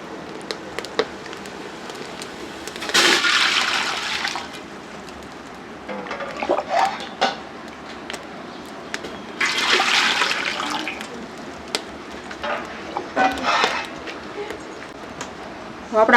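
Water is poured into a cooking pot in a village kitchen while a milk sweet and a meal are prepared. Several separate splashing gushes of a few seconds each stand out over a low, steady background.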